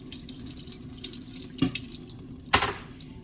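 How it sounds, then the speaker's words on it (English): Water runs and splashes steadily from a tap over yogurt in a strainer, with two brief louder splashes near the end. "I'm just gonna pour a little bit of water over this"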